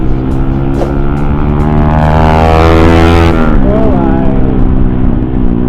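A motorcycle fitted with an SC Project exhaust idles and revs with a loud, close, rough bubbling note, pitch climbing then dropping, while someone speaks briefly over it.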